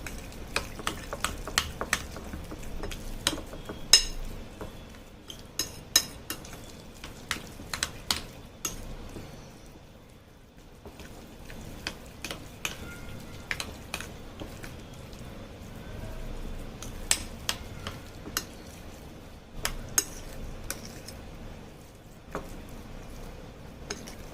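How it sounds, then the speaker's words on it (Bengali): A spiced mixture for a banana leaf recipe, with a little extra oil, is kneaded by hand: soft, repeated squishing and sticky clicks keep an irregular rhythm, fairly close and quiet, with no talk. "এবার ভালো করে মিশ্রণটাকে মাখাবো"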